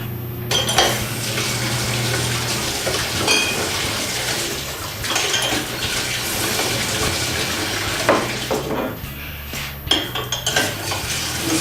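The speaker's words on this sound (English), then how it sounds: "And again, our bottle washer." Clinking glass and rattling wine bottles in a bottle washer, mixed with splashing, rushing water, a busy close-up rinsing sound with occasional sharper knocks.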